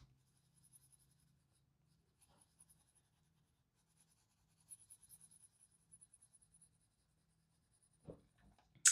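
Colored pencil laying down layers of color on paper, faint, close scratchy strokes in short irregular bursts separated by quiet pauses.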